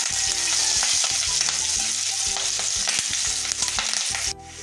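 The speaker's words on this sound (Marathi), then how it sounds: "परतून घेऊया।" Green chilies and curry leaves sauté in a pan, with a loud, steady sizzle and frying crackle throughout and a brief stirring clatter near the end, with no voices.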